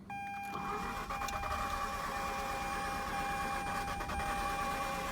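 A Mazda RX-8 rotary engine runs with a steady idle and a high, thin squeal layered on top, continuous and close, with no voices.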